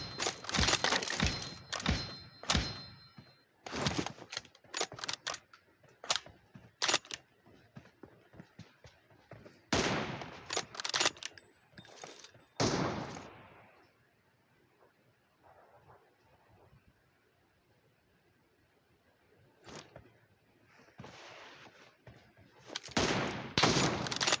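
Gunfire from the video game PUBG comes as dense bursts of rapid shots, loud and close, broken by quieter gaps and sporadic single shots.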